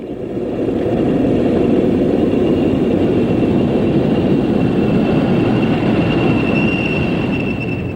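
British Rail Class 40 diesel locomotive 40158 passing at Cropredy in June 1983 with a Liverpool to Paddington passenger train, a loud sustained rumble and roar of wheels and engine with a faint high squeal, no voices.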